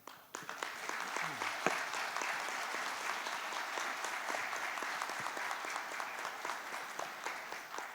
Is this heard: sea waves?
no